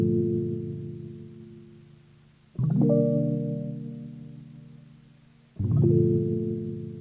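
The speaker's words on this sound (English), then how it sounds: "I had a piano loop here that I used from Cymatics," A sampled piano loop from Cymatics, built for boom bap beats, plays two sustained chord stabs a few seconds apart, each ringing warm and low then slowly decaying, alone with no voices.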